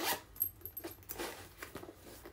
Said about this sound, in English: zipper works fine